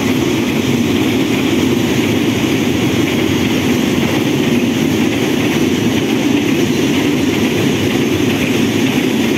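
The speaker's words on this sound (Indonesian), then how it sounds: "Papasan dengan kereta api Ketel." A freight train of tank cars rolls past close by on an Indonesian railway line, a loud continuous rumble and roar with steady wheel noise throughout and no talking.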